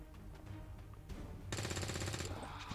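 Gunfire in XCOM 2, starting as scattered shots and then breaking into a dense rapid burst in the second half, with no talking.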